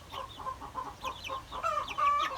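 Bantam chickens cluck in soft, repeated bursts close by, building to busier, louder calls toward the end.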